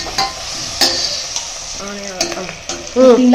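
Vegetables sauté in a pan for vegetable biryani, with a light sizzle under repeated close scraping stirs and clinks of a spoon, plus a few brief tonal squeaks toward the end.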